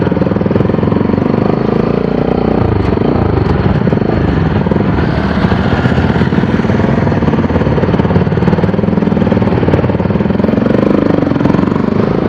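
A hot-running motorcycle engine drones steadily and loudly while riding, a continuous rumble with slight fluctuations in pitch, without pause.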